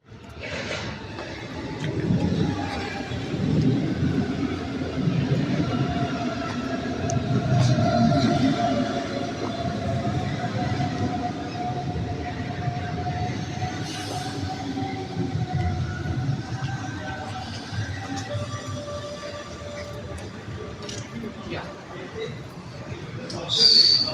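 A metro train runs through an underground station in Hamburg, a sustained low rumble with rising and falling tonal whines and squeals from the wheels and motors, fairly loud and close for the whole stretch.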